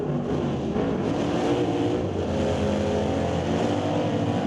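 A Super Shifter drag race car roars continuously and loudly as it rolls through the gears on the strip, a dense engine drone with no pauses.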